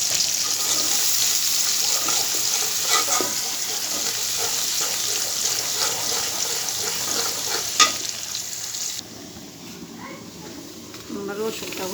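Garlic fries in a pan with a steady, close sizzling hiss and occasional stirring scrapes that ease off toward the end.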